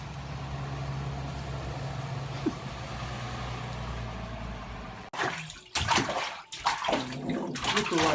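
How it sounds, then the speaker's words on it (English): A water spout runs outdoors in a steady, loud gushing stream, then cuts off partway and gives way to louder, uneven clattering noise and bursts of movement. "She was scared when the water spout was on."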